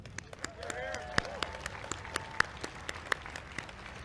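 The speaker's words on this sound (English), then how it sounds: "A round of applause for the people that put this parade together." Scattered clapping and applause from a crowd at a Memorial Day parade in Washington, D.C., irregular claps ringing out over background chatter and whistles.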